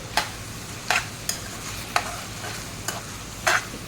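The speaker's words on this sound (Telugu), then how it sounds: "అల్లం వెల్లి పేస్ట్ కూడా మనకు పచ్చివాసన అనేది పోవాలి బాగా ఫ్రై చేసుకోవాలి" Ginger garlic paste frying in a pan for spaghetti, a soft steady sizzle broken by about six sharp scraping stirs of a spatula at roughly even intervals.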